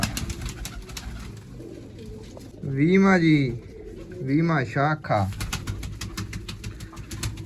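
Pigeons coo in a roost, with a couple of clear, close cooing calls rising over someone speaking Punjabi and other low background noise.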